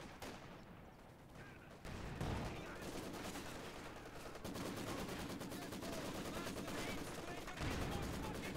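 A Maxim machine gun in Company of Heroes 2 fires sustained rapid bursts amid a dense battlefield soundscape with other gunfire and explosions, while a commentator speaks over the action.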